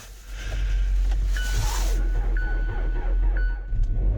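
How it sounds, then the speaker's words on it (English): A car engine runs in freezing cold with a steady, deep, close rumble. Evenly spaced electronic chime beeps sound over it, about once per second. "Oh, car started."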